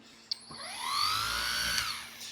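Cordless Flex dual-action sander cutting clear coat on a 1969 AMC AMX, a rising then steady whine that holds close and loud for about two seconds before easing off.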